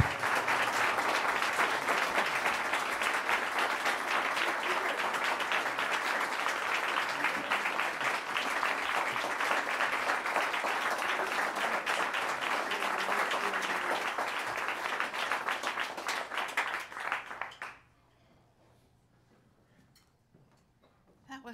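An audience at a live folk concert at Caffe Lena claps loudly and steadily to welcome a singer to the stage, a dense sustained ovation that stops abruptly near the end, leaving near silence.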